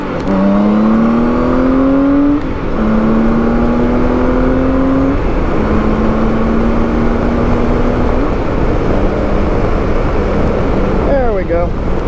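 A motorcycle ridden near Tampa accelerates hard through the gears, its engine note climbing and dropping with each of several shifts over steady wind rush, loud and close.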